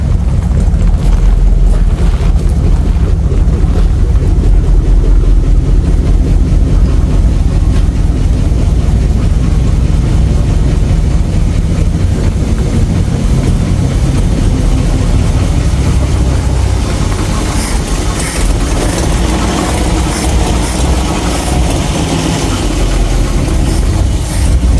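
A 1960 Ford Starliner's 292 Y-Block V8 runs steadily, giving a loud, deep, continuous rumble that holds level throughout with no voices.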